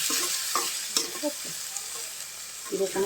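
Taro greens sizzle and fry in oil, with soft scraping stirs and small crackles coming in scattered bursts over a quiet hiss, fairly faint and close.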